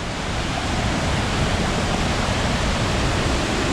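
The Soča river rushes loudly near its source, a dense, steady roar of flowing water close by that fills the whole sound, with no talk over it.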